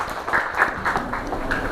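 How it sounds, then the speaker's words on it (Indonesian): A classroom of students claps for a student group after its answer, a brief burst of fairly loud, brisk applause with quick overlapping hand claps. "Beri tepuk tangan untuk kelompok"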